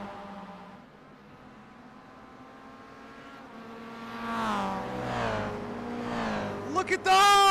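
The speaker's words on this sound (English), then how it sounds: "Here we go side by side between a Mazda MX-5 and that's a little bit more draft heavy Toyota GR86 of Ali XA." A Mazda MX-5 and a Toyota GR86 race side by side in a sim racing game, with engine notes rising and falling through revs and gear changes under steady talk, growing louder toward the end.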